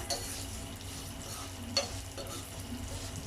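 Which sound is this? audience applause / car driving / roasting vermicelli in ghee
roasting vermicelli in ghee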